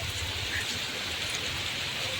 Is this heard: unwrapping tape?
no